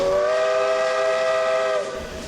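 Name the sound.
steam tank engine train at Niles Canyon Railway Steamfest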